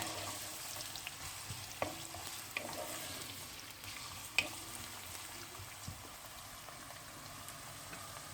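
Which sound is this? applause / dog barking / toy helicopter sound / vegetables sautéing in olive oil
vegetables sautéing in olive oil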